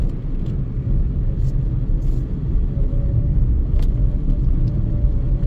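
A small car driven on a road in everyday use, a continuous low engine drone and tyre rumble heard from inside the cabin, steady and fairly loud, with no talk.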